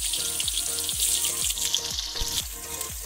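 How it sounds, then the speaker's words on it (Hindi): Pointed gourd frying in hot oil in a kadai over high flame, a steady close sizzle and crackle with a rhythmic scrape of stirring repeating about every half second throughout. "परवल को फ्राई कर लेना है अच्छे से गर्म तेल में, हाई फ्लेम पे इसे फ्राई कर लेना है।"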